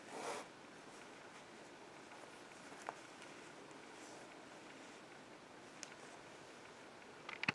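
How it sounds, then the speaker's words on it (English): Zipper on a large crocheted amigurumi Great Dane dog being handled, with soft, quiet rustles and a few faint clicks and scrapes, close up and otherwise near silent. "then you can open up the zipper again"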